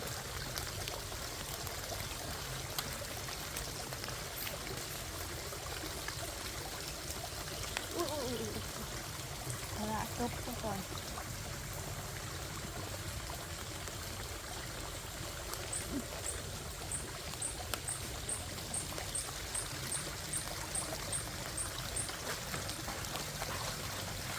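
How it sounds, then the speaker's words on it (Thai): Water trickles and flows steadily in a small stream beside a fish trap among rice fields in Thailand, a soft continuous gurgle at moderate distance, with faint chirping insects or birds joining later. "น้ำมันยังไหลบ่แห้ง"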